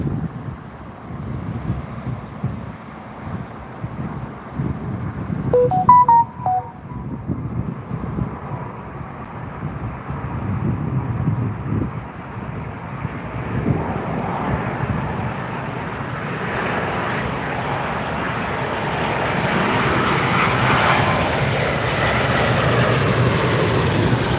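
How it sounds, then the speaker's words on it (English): A British Airways Airbus A320 arriving from Basel descends to land on runway 27R at London Heathrow, its broad engine roar building steadily and growing louder and brighter as it draws closer over the outdoor spotting area. "BA 320 from Basel, coming in behind the Air Canada 777-3"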